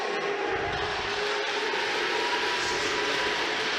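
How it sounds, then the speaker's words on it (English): Crowd noise at a boys' high school hockey game between RMHS and Belmont, a steady broad roar of fans calling out "D" for a player, loud and continuous throughout. "the crowd calling out the D, if you're wondering what that noise is"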